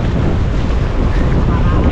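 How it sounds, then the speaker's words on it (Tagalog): Strong wind on a beach at Casapsapan, Casiguran, buffets the microphone in a continuous roar, with a faint wash of surf underneath. "Mahangin pa rin hanggang ngayon"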